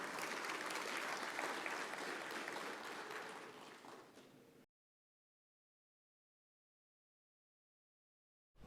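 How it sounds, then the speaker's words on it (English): An audience at the Conext Digital Council conference plenary claps steadily for about four seconds before the sound cuts to silence, with a short burst of applause returning at the very end. "You can give a round of applause."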